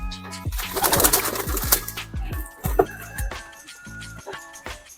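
Racing pigeons coo and flutter up close as they are caught one by one, a dense chorus of low throaty coos overlapping with a few wing flaps, continuous for several seconds.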